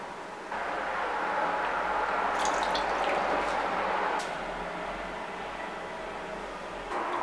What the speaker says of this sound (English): The rest will be filled with water